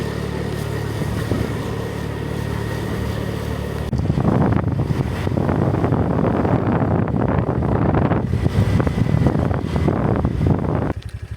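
Strong wind buffets the microphone aboard a boat, a steady low rumble that swells into heavier gusting roar partway through, with no talking.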